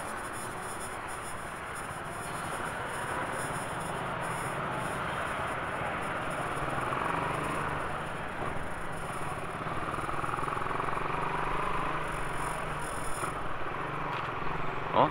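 Motorcycles and cars in congested road traffic on C5 in Taguig, Philippines, a steady broadband engine and road rumble throughout, fairly close and continuous, with no talking.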